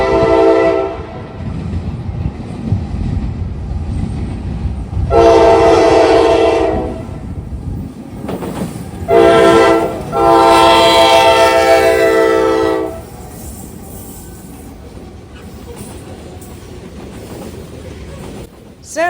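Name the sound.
southbound grain freight train passing, Obetz Ohio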